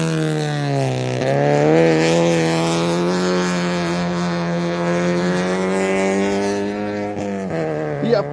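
A race car on the Chusaqueri circuit in Oruro at a departmental rally competition screams past close by, its loud, high-revving engine holding a sustained tone, then shifting pitch with a brief gear change and fading as it goes by.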